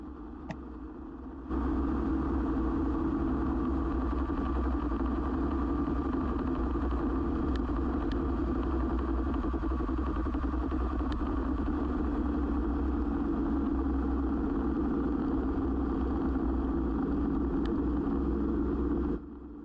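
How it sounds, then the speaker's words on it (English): BMW suffering death wobble, wheel and tie rod shaking violently: a steady, loud low rumble and engine drone that starts abruptly and continues unbroken for a long stretch. "In this next segment, you'll be able to see the death wobble."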